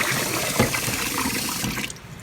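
Rice being rinsed in water before cooking, with swishing and running water sloshing steadily at close range, a brief louder splash partway through, then fading near the end.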